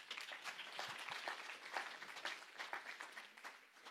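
An audience applauds with a dense, steady patter of many hands clapping together, fairly faint and distant, easing off slightly toward the end.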